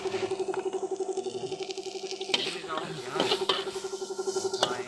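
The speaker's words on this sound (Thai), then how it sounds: "นี่เสียงปั๊มลม" A small air pump hums and pulses rapidly in a steady buzzing rhythm, close by, with faint rustling and bubbling around it.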